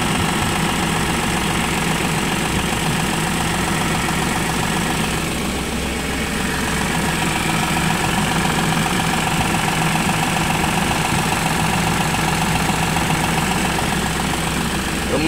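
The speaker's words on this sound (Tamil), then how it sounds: "இன்ஜின் சவுண்டு ரொம்ப கம்மியாக தான் இருக்குது" An Eicher 10.50 BS6 truck's diesel engine idles steadily and close by, a continuous low chugging rumble with mechanical knock that never changes pace.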